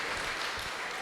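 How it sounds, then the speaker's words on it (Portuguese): Church congregation applauding during a Portuguese-language sermon, a soft, distant wash of clapping heard faintly and evenly throughout. "Alguém pode aplaudir o Senhor?"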